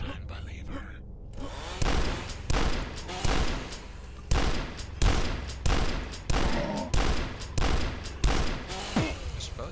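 Rapid gunfire in the video game Dusk, about a dozen sharp shots in an uneven rhythm after a short lead-in of other game sounds, loud and close.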